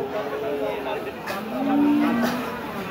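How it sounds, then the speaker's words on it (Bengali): Cattle moo at a busy cattle market with big bulls. Low, drawn-out moos sound at mid distance over a constant crowd murmur. "তিনটাই বড় বড় গরু।"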